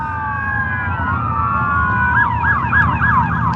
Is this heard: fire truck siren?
yes